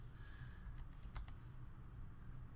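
Computer keyboard typing during a stock-market charting session, a short burst of a few quick keystrokes near the middle over a steady low background hum, with no talking.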